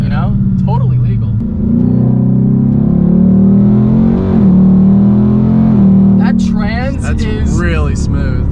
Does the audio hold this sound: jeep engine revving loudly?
yes